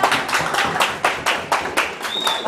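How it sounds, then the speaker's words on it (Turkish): A handful of people clap in an uneven, rapid rhythm at a Turkish fight or sparring event after a round ends, close and fairly loud with faint background voices. "Alkışlayalım. Güzel bir rantı."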